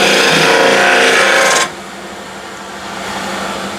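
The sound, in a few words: lathe gouge rubbing and cutting inside a wooden hollow form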